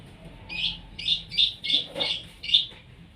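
Six short, bright bird chirps repeat at a quick, even rhythm, fairly faint over a quiet background with no voices.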